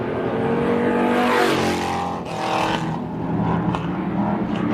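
Hobby-class race cars at the Winnemucca track coming off turn two, engines roaring loudly as they pass close by, pitch sliding down as they go and more cars following, under a steady rumble.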